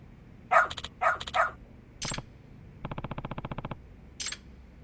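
A dog in the video game Lost Judgment barks several times in short bursts, followed by a quick rattling series of clicks and one more sharp yip, close and clear against a quiet background.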